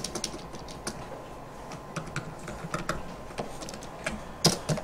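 Computer keyboard typing for AutoCAD commands: scattered, light key clicks at an uneven pace, with one sharper keystroke near the end, close and fairly quiet against a soft room hiss.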